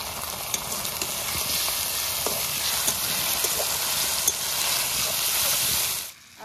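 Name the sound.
ginger garlic paste and green chillies frying with onion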